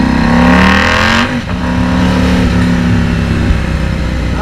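KTM 790 Duke motorcycle engine revving hard, with a loud, continuous exhaust roar and a brief dip around a gear shift before the pitch climbs again, close and without talk.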